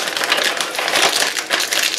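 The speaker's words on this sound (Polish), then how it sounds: "Przesypuję do miski." Mixed seeds, a quarter cup for homemade seeded bread, pour into a bowl with a close, loud dry rattling hiss that runs continuously with small surges and no talk.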